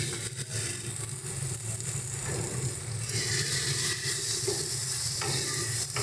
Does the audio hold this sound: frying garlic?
yes